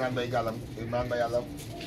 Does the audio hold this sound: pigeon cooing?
yes